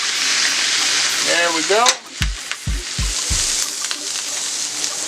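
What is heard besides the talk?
smash burger patty searing and sizzling on a hot surface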